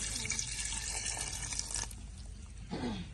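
Water is poured into a pot of chicken qorma, a steady wet splashing and trickle running close by for a few seconds before it tapers off, with a short splash near the end.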